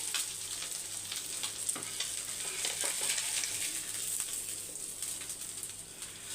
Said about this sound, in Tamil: பாருங்க நல்லா மீன் வந்து ஃப்ரை ஆயிடுச்சு